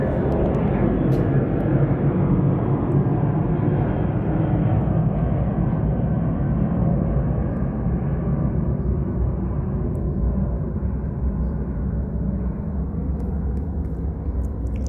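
A Southwest Airlines airplane passes overhead as a steady, loud broadband roar that holds throughout, slowly easing toward the end, with no talk.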